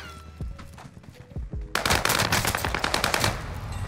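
Rapid bursts of automatic fire from an Owen gun in a multiplayer shooter game, starting as scattered single shots and turning into a loud, sustained rattling stream.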